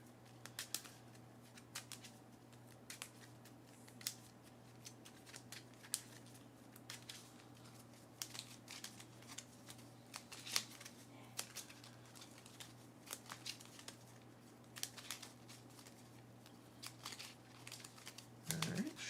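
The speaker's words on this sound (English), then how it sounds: "Alright, shuffle that up" Cards being shuffled for the Kinfire Chronicles: Night's Fall board game, heard as soft riffling and crinkly paper clicks in short bursts over a steady low room hum.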